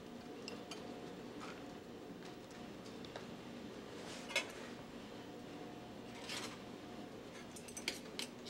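Cutlery clinks softly against a bowl while a beet salad with vinaigrette and macadamia nuts is tossed, the light scraping and tapping faint and intermittent.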